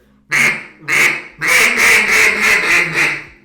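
Loud, close duck call mimicking a drake's quacks: two single quacks, then a rapid run of raspy quacks in a steady rhythm.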